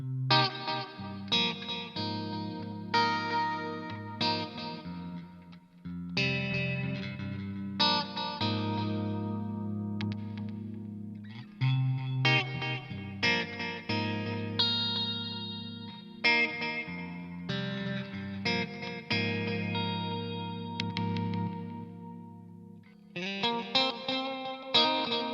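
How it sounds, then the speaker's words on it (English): An Ibanez Q Series electric guitar on the inside coils of both humbuckers plays a run of picked chords and single notes with clear attacks and short pauses, bright and close with light effects and no talking. "we're actually now using the inside coils of each pickup"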